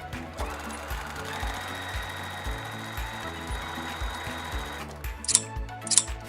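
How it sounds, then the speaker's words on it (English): A sewing machine stitches a corner-to-corner seam on a makeup bag with a steady rapid mechanical chatter in several bursts, loud and close, ending with two sharp clicks; no one speaks. "At 3/8 of an inch, you're gonna want to sew from corner to corner shut."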